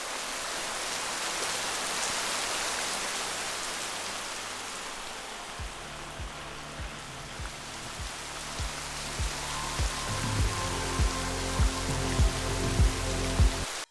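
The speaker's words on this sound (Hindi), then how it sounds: "यूँ तो बारिश अल्लाह की रहमत होती है" Steady rain falls during a mountain hike in the Galiyat region near Nathia Gali, a loud continuous hiss with heavier drops spattering on a nearby surface later on.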